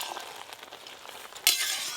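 Cut, washed drumstick (sajne data) pieces go into half-cooked dal in a pot. A quiet simmering, clinking stir gives way to a sudden loud burst of hissing sizzle that carries on to the end.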